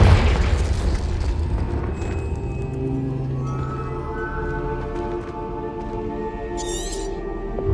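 In Hogwarts Legacy, a Confringo spell erupts in a heavy, booming explosion that rumbles and slowly fades under sustained tones, with a brief bright crackle later on.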